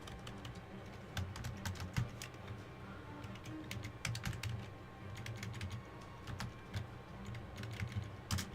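Rapid, close keystrokes on a computer keyboard patter in uneven bursts and short pauses, fairly quiet, with no talking over them.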